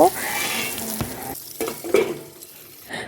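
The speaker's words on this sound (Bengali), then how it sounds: "পটলটা ভালোভাবে ভেজে নিচ্ছি" Pointed gourd (potol) fries in hot oil in a pan, a loud steady sizzle with a few scraping stirs of a spatula, close and continuous with no talk.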